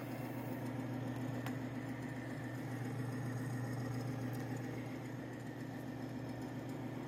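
Timken bearing demonstration machine running hot with no oil in the cup, a steady low mechanical hum and drone, quiet and even throughout, with a couple of faint brief ticks and no talk.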